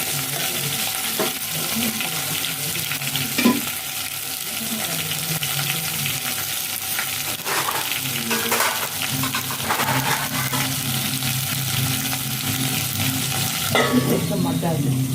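Vegetables for sambar sautéing in a pan, a steady loud sizzle running throughout with repeated scraping stirs of a spoon against the metal, up close and with no talking.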